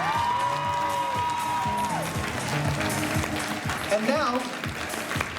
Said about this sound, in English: let's have one more big round of applause for our advanced category